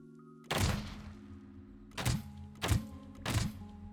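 Four loud gunshot-like bursts from shell-loaded guns in the building game Scrap Mechanic, one shot followed by a quick run of three evenly spaced rounds, each a sharp blast with a booming low thud over a steady hum.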